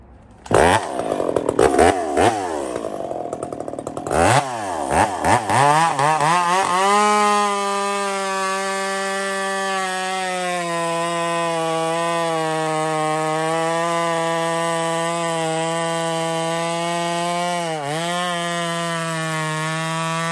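A factory-stock, hot-rodded power chainsaw bucks a firewood log: choppy revving as the chain bites at first, then a loud, steady high-pitched whine held close up for the rest of the cut.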